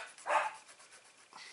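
Dogs bark loudly indoors in a short burst, followed by a fainter yip, with no talking over them.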